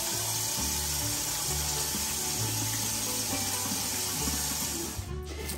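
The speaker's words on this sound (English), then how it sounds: "Let me wash my hands." A kitchen tap runs steadily into a sink while hands are washed, giving a close, continuous rushing of water with shifting splashes that cuts off abruptly near the end.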